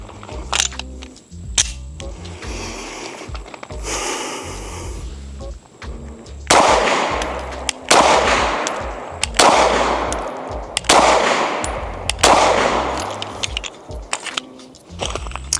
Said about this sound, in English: Beretta PX4 Storm, 9mm, 115 grain, 7 yards, 5 rounds.